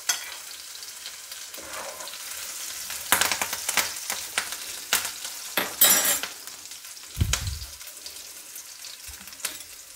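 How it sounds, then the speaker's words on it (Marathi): Chopped green chillies dropped into a hot pan for dal tadka, sizzling in uneven bursts with stirring clatter and scraping, close up, fading between louder spurts. "आता हिरवी मिरची चिरलेली ती घालायची आहे"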